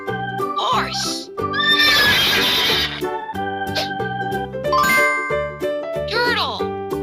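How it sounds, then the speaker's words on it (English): A horse gives a loud, shrill neigh over a cheerful children's animal-sounds tune with bells and bouncy synth notes, the whinny rising prominently in the middle of the music. "Horse."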